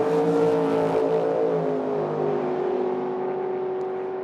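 A dragster and a roadster at a drag strip in Medicine Hat, Alberta, a loud steady engine roar with a sustained droning tone that slowly fades and lowers in pitch as the cars pull away.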